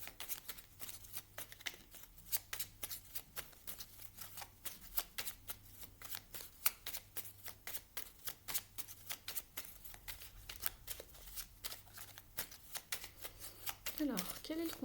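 Oracle cards shuffled by hand in a steady stream of quick papery riffles and slides, running continuously throughout, close and clear, with a low hum underneath.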